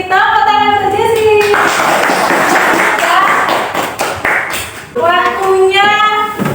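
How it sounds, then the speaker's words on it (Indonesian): Children in a classroom burst into applause for a classmate, a dense round of hand clapping lasting about three seconds, framed by a teacher's voice speaking before and after. "Tepuk tangan untuk Jessi."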